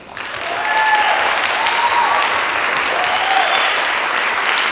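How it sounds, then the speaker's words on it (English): An audience at a school winter concert applauds chorus students, a dense wash of clapping that swells quickly and carries on steadily, with a few faint cheers and whistles rising over it. "So give them a round of applause"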